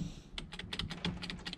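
An old wired Dell PS2 keyboard clatters as its keys are pressed in a quick, uneven run of close, crisp clicks.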